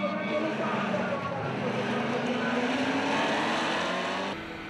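NASCAR Whelen Euro Series race cars, including a Chevrolet, lapping on track with steady engine whine and a rising harmonic tone as one car accelerates, with a brief cut near the end.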